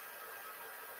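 A heat embossing tool blows hot air in a steady, close, broadband whoosh with an even hiss and no talking.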